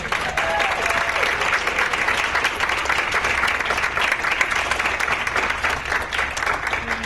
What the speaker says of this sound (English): So give her applause